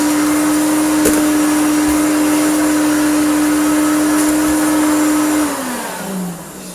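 A restored Hoover Turbopower Junior U1426 upright vacuum cleaner runs loud and close with a strong steady whine, which falls away near the end as the motor spins down.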